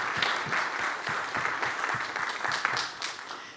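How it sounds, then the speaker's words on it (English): An audience at a conference on mRNA technology transfer, held on the sidelines of the G20 summit, claps steadily throughout, a close, even round of applause with no speech over it. "So just a round of applause to our funders."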